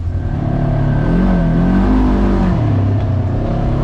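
A Polaris RZR Trail Ultimate side-by-side revs steadily on a forest trail, its engine loud and close with a rising and falling drone and no talking.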